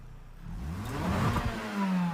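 A car engine in the racing game Gran Turismo 7 revs up with a rising, whirring tone, holding steady and loud with no talk over it.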